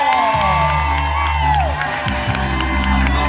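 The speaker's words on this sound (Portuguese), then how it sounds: "Cadê os aplausos?" Audience at a resort talent show cheering and whooping loudly, a dense continuous crowd roar with shouts over steady stage music throughout.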